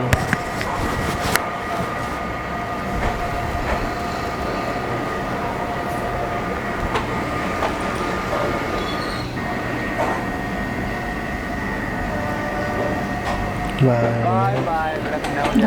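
A double-decker express train from Lucknow to Anand Vihar rolls along with a constant rumble and hum, with occasional clacks and a brief squeal near the end. Someone talks over it.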